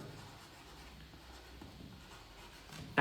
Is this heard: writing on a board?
yes